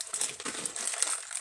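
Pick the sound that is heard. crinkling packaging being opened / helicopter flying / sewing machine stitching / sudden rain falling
crinkling packaging being opened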